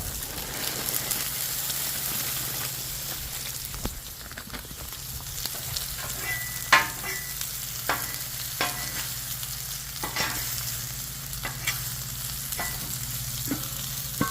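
Steady sizzling of frozen vegetables frying in a pan, with occasional sharp scrapes and clinks of a utensil stirring, no voices.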